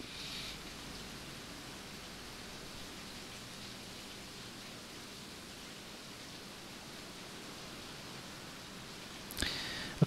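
Rain pours continuously in a soft, broad, even wash, unchanging and fairly faint throughout, with a brief rustle or knock near the end and no speech.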